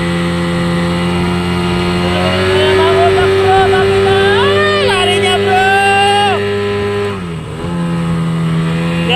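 An engine runs loud and close with a steady hum, rising in revs briefly, then dipping and settling back to a smooth idle.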